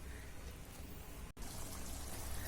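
Water pouring and trickling steadily over fish as it is rinsed before going into a garlic curry, a continuous close splashing flow with a brief break midway.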